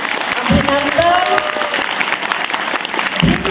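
An audience at a district program applauds loudly for several seconds, dense clapping with a voice and crowd noise mixed in.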